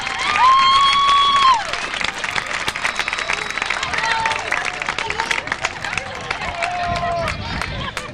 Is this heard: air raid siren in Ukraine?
no